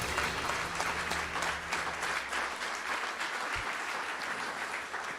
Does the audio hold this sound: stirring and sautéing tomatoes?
no